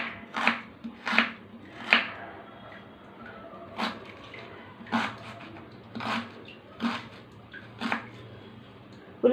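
A knife chops vegetables thinly for eggplant pachi pulusu on a cutting board, giving a series of sharp, irregular taps, about ten in all, close and clear in a quiet room.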